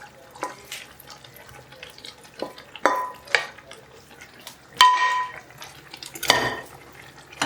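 Fried okra is stirred into masala in a pan for bhindi masala, with intermittent scraping and clinking of a spoon against the pan over a faint low sizzle in a quiet kitchen.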